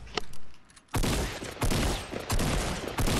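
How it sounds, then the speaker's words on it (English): Video game gunfire erupts in thick, loud bursts of rapid overlapping shots, falling briefly quiet before resuming in several long volleys. "are y'all getting shot at over there?"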